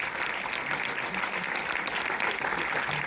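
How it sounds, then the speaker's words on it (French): Dense, steady applause from a large audience fills a cinema at a Montpellier film premiere, continuous and fairly loud with murmured voices underneath. "Je vous laisse profiter des applaudissements."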